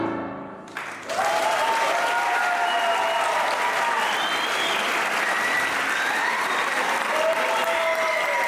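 An audience at a small pocket concert bursts into applause after a brief quiet moment, the clapping rising quickly and holding steady and full for several seconds.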